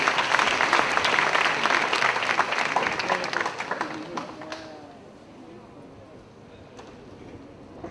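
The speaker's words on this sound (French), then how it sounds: "Sous vos applaudissements, mesdames et messieurs." Loud, dense audience applause at a tribute show fills the first few seconds, then thins out and fades to a quiet room with a few isolated claps.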